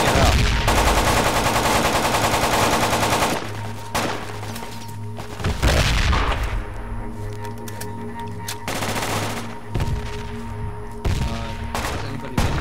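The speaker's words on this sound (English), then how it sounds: "Enemy Grenadier is firing." Rapid bursts of automatic gunfire and heavy impacts from a grenadier in the Battlefield 2 Project Reality military shooter, loud and repeated through the whole stretch with sharp bangs and short pauses between volleys.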